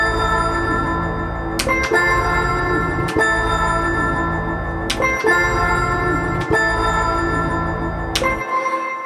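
Original Edward Snowden preset from the Tape Piano 2 VST plays sustained tape-piano chords with bright bell-like attacks struck every second or so, loud and close, fading out at the very end.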